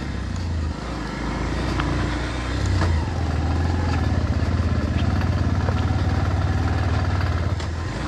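An off-road motorcycle in second gear labours on a rough hill track, its engine a loud, steady low drone with a throbbing pulse that rises slightly as it strains.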